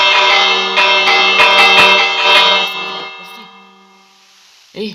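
A bright, ringing video-game doorbell tone with many sustained overtones sounds for about three seconds, then fades, followed by a short, softer chime near the end.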